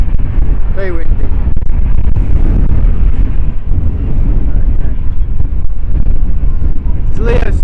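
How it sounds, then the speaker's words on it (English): Strong gusting wind buffets the microphone outdoors at an airport visitor park, a loud continuous low rumbling roar throughout, with faint distant aircraft noise beneath. "It's windy today, it's just picked up, it's just gone mad."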